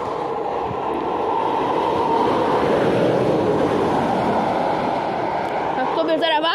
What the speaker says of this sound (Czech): Jede vlak